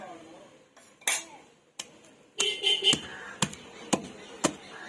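Garlic cloves pounded in a stone mortar for a roti pachadi chutney: sharp, close knocks and clinks, a few scattered strikes first, then a quicker run of hard hits.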